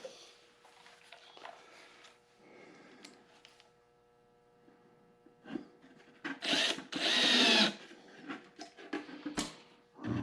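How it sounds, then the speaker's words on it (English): A power drill drives a screw into a wooden cemetery vault form, with quieter handling noises first and then a few loud whirring bursts near the end. "we'll start us a screw there"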